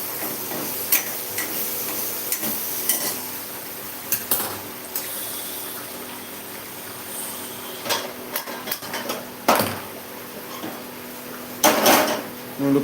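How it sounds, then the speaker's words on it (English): A spoon stirs okra curry in a pan on the stove, with scattered scrapes and metallic clinks over a soft hiss of cooking, loudest in a few sharp bursts. "I'm going to stir this again."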